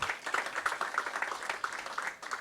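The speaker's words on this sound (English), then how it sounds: "So how about a round of applause for Michael?" Audience applause at a business talk on selling to large companies, a fairly quiet patter of scattered clapping from a modest crowd, steady for a couple of seconds and fading at the end.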